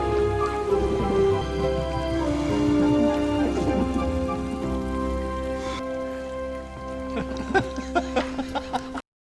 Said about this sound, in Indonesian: Malamnya saat sedang hujan